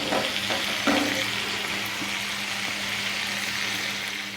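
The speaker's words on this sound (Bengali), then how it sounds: "মশলাটাকে আমরা একটু কষিয়ে নেব।" Spice paste for a rohu fish curry, with dry red chilli, fries and sizzles steadily in a pan, a broad constant hiss with a few brief stirring clinks near the start.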